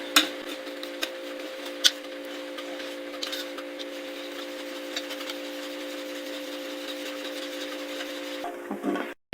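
Chocolate banana cake batter with oil and vanilla is mixed by hand in a bowl, a steady rubbing, scraping stir close up over a constant hum, with a couple of sharper taps.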